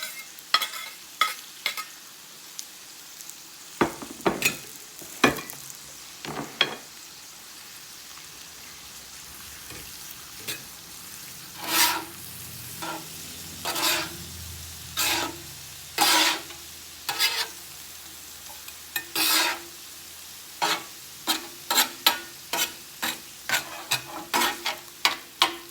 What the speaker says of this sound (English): I'm going to go ahead and put my peppers and onions back in it